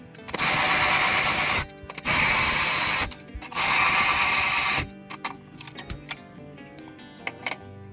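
A ratchet wrench tightens bolts on a Polaris RZR Pro XP Turbo clutch kit in three loud, fast clicking bursts, each about a second long, followed by quieter scattered clicks and handling noises.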